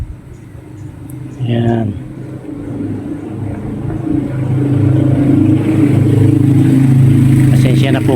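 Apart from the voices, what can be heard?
road traffic noise beside a street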